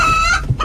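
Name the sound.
chickens clucking inside a vehicle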